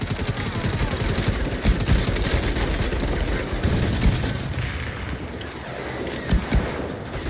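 Bursts of gunfire in the video game Saints Row (2022), dense rapid shots with occasional heavier booms layered over a loud, busy game soundtrack.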